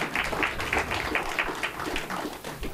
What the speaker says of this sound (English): a round of applause for my long-suffering husband